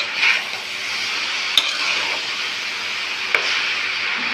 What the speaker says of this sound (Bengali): এখন দিয়ে দিচ্ছি বাঁধাকপি, নাড়া দিয়ে দিব